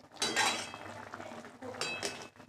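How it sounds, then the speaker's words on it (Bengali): Potatoes tipped into a pot of boiling bean curry, giving a couple of metallic clinks and scraping clatters against the pot, moderately close, with a low simmering bubble underneath. "ফুটে গেছে, এবার আলুগুলো দিয়ে দিচ্ছি।"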